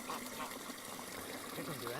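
Manured water from a duck and goose pond flows by gravity down to a tap, making a faint, continuous gushing trickle with no pauses.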